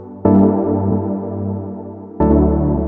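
Layered Serum synth pads, a sustained harmonically rich chord that swells in, holds steadily for about two seconds, then restarts with a fresh attack; loud and close with no voices.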